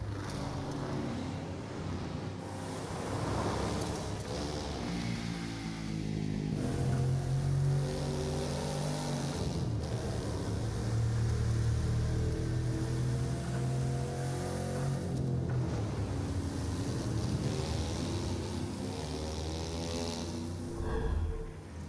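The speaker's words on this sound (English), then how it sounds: "Tame, unpredictable waves on the open ocean, rapid waters, or narrow rivers." A speedboat racing over open-ocean waves in the driving game The Crew 2; a steady motor drone rises and falls with revving, while splashes and rushing water churn around it.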